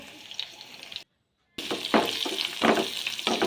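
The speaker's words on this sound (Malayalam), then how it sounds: "എല്ലാം കൂടി വഴറ്റി കൊടുക്കാം." Onion, garlic, green chilli and mustard seeds sauté in hot oil in a pan, a close, crackling sizzle with scraping stirs, broken by a short moment of silence.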